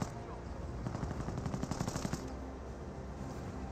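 Rapid gunfire from an infantry squad in Company of Heroes 1, a burst of repeated fast shots in the middle of the clip over a steady battle din.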